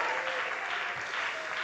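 A church congregation claps together in a dense, continuous burst of applause filling the room, steady from start to end.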